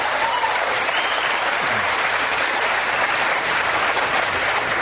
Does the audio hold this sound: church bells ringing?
no